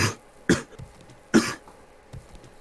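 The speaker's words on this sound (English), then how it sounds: "Ugh, coughing hurts a lot." A person coughing in a few sharp, separate bursts spaced about a second apart, close and fairly loud, with quiet gaps and faint low bumps between them.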